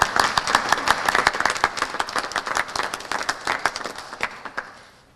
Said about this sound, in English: So please, a round of applause to Bob Philbin.